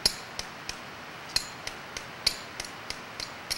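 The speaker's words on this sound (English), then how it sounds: "He begins to hammer the nails through the holes in the shoe up into the hoof." A farrier hammers horseshoe nails through a shoe into a horse's hoof outdoors in the high Sierra Nevada. About a dozen sharp metallic taps come in a steady, slightly uneven rhythm, close and clear against a quiet background.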